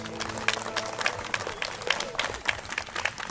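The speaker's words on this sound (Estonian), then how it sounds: "Aplaus!" An audience claps steadily to welcome a singer and musician onto the stage at the opening of the Salla community house. The applause is close, dense and moderately loud, with uneven bursts throughout.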